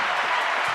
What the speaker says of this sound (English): y'all ain't clapping up for that?